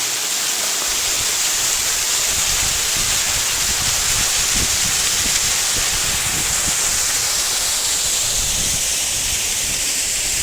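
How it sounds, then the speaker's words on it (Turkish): Steady, loud rush of a waterfall, a continuous dense roar with no pauses, close by and uninterrupted throughout, at Cehennem Waterfalls in Kırklareli, Turkey, in winter. "su buradan gelip böyle akıyor. Cehennem şelalesi de burası."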